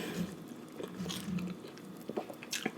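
Close, steady chewing of a Popeyes chicken sandwich with spicy sauce, with soft crunches and wet mastication, plus a few louder bites near the end.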